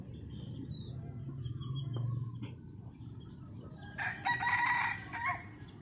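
Decoy roosters crow on a cold, overcast morning, one long cock-a-doodle-doo near the start answered by another louder crow a few seconds later, over a quiet low background.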